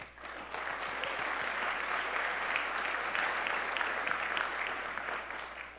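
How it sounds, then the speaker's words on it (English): Audience applause at a business awards ceremony honouring San Mateo County innovators: steady, dense clapping from a large crowd, sustained at even loudness for several seconds before easing slightly at the end. "I think that deserves a round of applause."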